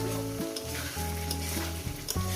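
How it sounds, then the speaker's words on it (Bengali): Masala for aloo posto sautéing in a pan, a loud, close sizzle with rhythmic stirring scrapes and a humming tone that cuts in and out between strokes. "আরও এক মিনিট কষাবো"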